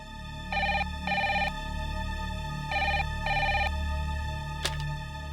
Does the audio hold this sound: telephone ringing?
yes